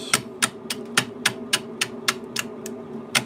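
An antique roughing gouge cuts chunks off a wooden hollow form spinning at about 220 RPM on a lathe, making a steady, regular series of sharp knocking hits over a low motor hum.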